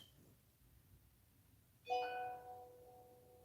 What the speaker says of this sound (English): As my tablet chimes in.